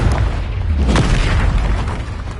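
Confringo, the blasting curse in Hogwarts Legacy, detonates as a big booming explosion, with a sharp burst near the middle riding on a continuous deep rumble that stays loud throughout, unaccompanied by speech.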